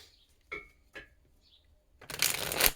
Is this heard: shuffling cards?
yes